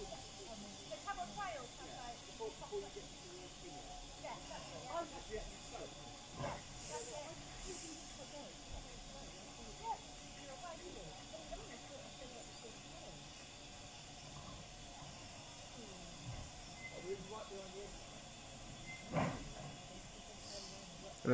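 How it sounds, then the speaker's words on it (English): Steady hiss of steam from a train pulling away on the Camel Trail on a hot day, with faint rail clanks and scattered knocks at a distance, low in level throughout. "And then the train be off."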